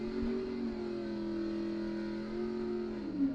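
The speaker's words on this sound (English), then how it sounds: "Tim Vincent, he's in the dragster" A dragster engine at a bracket drag racing event, a steady droning roar held near and loud for a few seconds, rising slightly in pitch at the end with no talk over it.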